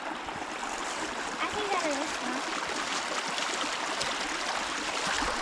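Water in a creek flows with a steady soft rush and trickle, fairly faint and constant, while someone speaks briefly over it outdoors.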